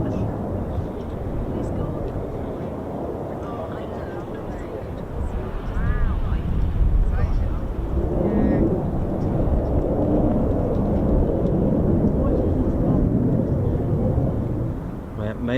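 F-35A fighter jet flying at RAF Lakenheath, a heavy distant rumbling roar that swells louder midway and holds steady, with a voice speaking over it.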